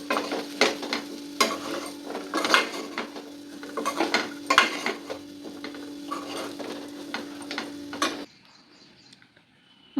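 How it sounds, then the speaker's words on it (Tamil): Vegetable poriyal with grated coconut is stirred in a pan, a quick series of sharp spoon scrapes and clinks over a faint sizzle that stops abruptly near the end. "இது அடிக்கடி ஒரு டீப்பொடி திருப்பி விட்டுக்கலாம்."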